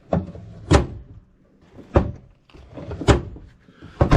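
A car door that catches as it opens and closes, giving several loud, sharp thunks and knocks spaced about a second apart, close by, with no voices.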